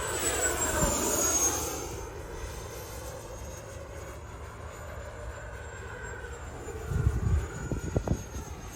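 An FMS Scorpion 90mm V2 electric ducted-fan RC jet, flown on a 6s or 8s battery, whines steadily overhead with a high turbine-like tone that swells and fades as it passes, with wind buffeting near the end.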